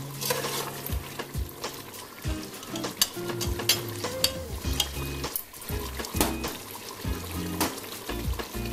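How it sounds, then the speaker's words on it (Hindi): Beef boti masala frying and being stirred in a pan, with a steady sizzle under repeated scraping and clanking of a utensil against the pan, close up and without talk. "ये अच्छे तरीके से मैं इसे भून लूँगी।"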